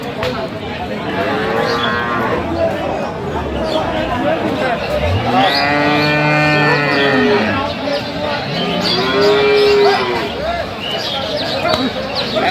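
Cattle, cows and calves, moo loudly nearby at a livestock market in Dinajpur, two long calls standing out over a busy crowd of voices talking.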